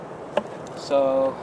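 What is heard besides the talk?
honeybees buzzing at an open beehive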